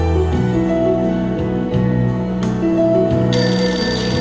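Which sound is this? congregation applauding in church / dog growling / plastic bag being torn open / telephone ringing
telephone ringing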